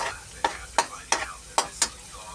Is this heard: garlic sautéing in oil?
yes